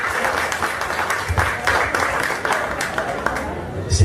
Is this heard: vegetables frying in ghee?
no